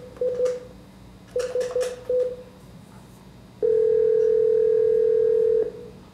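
Telephone keypad tones as a number is dialed: three clusters of short beeps, followed by a steady, loud dial or ringback tone lasting about two seconds, with no talking.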